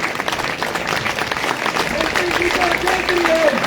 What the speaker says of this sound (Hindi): इसलिए 2 मिनट तक ताड़ियों से इसका स्वागत करो सारे